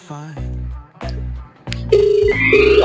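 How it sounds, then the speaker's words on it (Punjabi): A telephone on speaker rings unanswered, repeating tonal bursts separated by short gaps, loud and close, with people talking around it. "ਬੈਲ ਤੇ ਯਾਰ ਜਾਂਦੀ ਪਈ ਆ ਫੋਨ ਕਿਉਂ ਨਹੀਂ ਚੁੱਕਣ ਦਿਆ"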